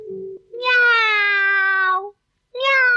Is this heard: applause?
no